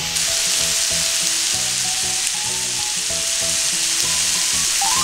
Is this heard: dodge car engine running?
no